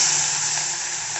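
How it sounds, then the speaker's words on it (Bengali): Chopped onion dropped into hot refined oil with reddened cumin seeds, sizzling in a steady, loud, close hiss that holds evenly throughout without any voice. "এখন আমি পেঁয়াজ কুচিটা ওর মধ্যে দিয়ে দেবো।"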